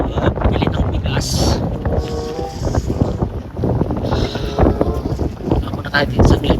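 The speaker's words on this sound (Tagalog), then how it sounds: "Pero grabe yung hangin." Strong, gusty wind at Smoky Lake, Alberta on a sunny day, roaring loudly and buffeting the microphone in a continuous rushing wash with surging gusts throughout.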